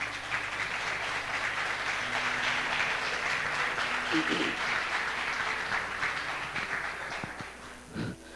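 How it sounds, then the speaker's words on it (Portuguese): A church congregation at a Sunday celebration service applauds strongly and steadily for several seconds, the dense clapping fading slightly toward the end while voices murmur beneath it. "Vamos aplaudir mais uma vez Jesus bem forte."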